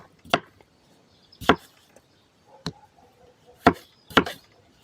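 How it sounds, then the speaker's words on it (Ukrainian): Sharp knife chops through old potatoes, striking a cutting board five times at an uneven pace, close and crisp, with quiet pauses between. "Картопельку нарізаю"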